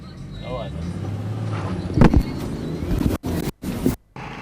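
Off-road cars race at high speed across rough terrain at the Lviv tank range, engines roaring and surging with bursts of wind and rumble, cutting in and out abruptly while a voice talks over part of it.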